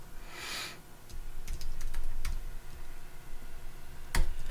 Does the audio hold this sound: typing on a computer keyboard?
yes